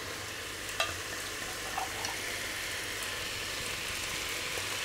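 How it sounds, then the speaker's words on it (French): Cabbage sautés with bacon lardons in a pan, giving a soft, steady sizzle with a few faint clicks of stirring, quiet and without talk. "On fait revenir avec les lardons"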